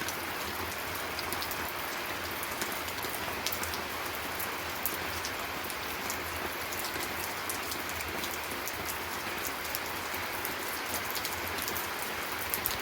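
Steady rain falling outdoors on a rural homestead, a dense even hiss of drops spattering surfaces with occasional sharper taps, constant and moderately loud throughout with no talking.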